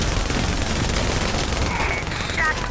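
Sustained crisp gunfire from a trailer for the video game The Division, a dense continuous volley at steady high loudness with faint whistling tones near the end.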